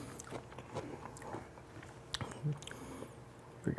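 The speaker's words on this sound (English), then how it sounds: "Get a couple of my onion rings. Oh, yeah. These are so crunchy. Listen to that." Battered onion rings crunched between the teeth, close and quiet, in a series of soft irregular bites and chews.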